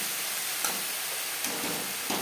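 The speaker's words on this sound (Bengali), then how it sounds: "মশলার সাথে বেগুন কষাবো" Eggplant sizzles with spices in a pan over medium flame, a steady close hiss of frying broken by a few faint stirring scrapes.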